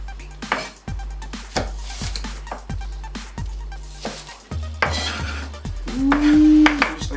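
A knife chops apples on a board in steady, fairly close strokes that knock out a regular rhythm, with a brief clatter of utensils toward the end.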